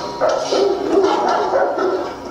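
Several dogs bark and yip from crates in a scene of a fantasy TV drama, a steady run of overlapping barks at moderate volume with no other sound.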